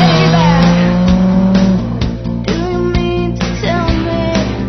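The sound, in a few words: Jaguar F-Type Coupe car driving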